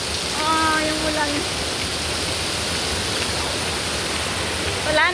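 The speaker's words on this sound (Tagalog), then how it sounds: "Grabe, ang lakas ng ulan." Heavy rain pours down in a dense, loud, continuous hiss, with a voice briefly speaking over it at the start and end.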